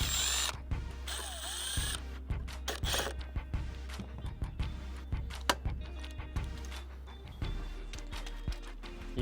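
Screws are driven into a locking handle set on a rebuilt RV gate with a power tool, giving short whirring bursts at close range. Scattered clicks and knocks fall between them.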